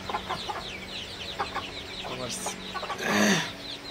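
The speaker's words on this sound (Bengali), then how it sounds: "এটা হচ্ছে সিল্কির মোরগ" A silkie rooster gives short, intermittent clucks close by, ending in a louder, drawn-out squawk, with faint farmyard background.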